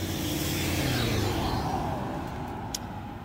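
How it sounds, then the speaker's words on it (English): A loud truck rumbles past outside a home kitchen, a steady low engine drone that fades slightly as it moves off, with no talking over it. "Hold on, there's a loud truck."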